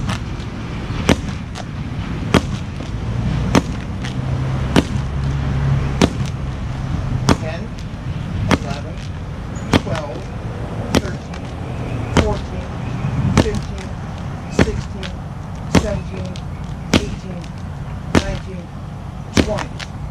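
A wooden sword strikes a pell in about twenty sharp, evenly spaced left-handed chops, each a crisp wooden knock close by, roughly one per second over steady background noise.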